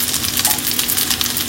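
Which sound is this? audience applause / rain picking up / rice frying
rice frying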